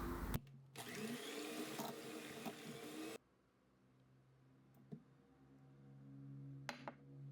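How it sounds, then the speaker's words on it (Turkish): An electric hand mixer whirs loudly while beating eggs into cold eclair dough, then cuts off, leaving faint kitchen clatter. "Şöyle mikser yardımıyla karıştıralım."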